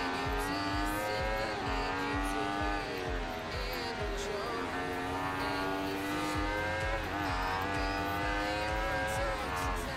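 An Aprilia RSV4 1000cc V-engine motorcycle in the racing game Ride 2 screams at high revs, its pitch rising and dropping with gear changes, loud and continuous throughout.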